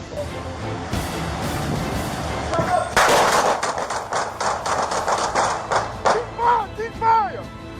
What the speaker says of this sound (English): Officers opened fire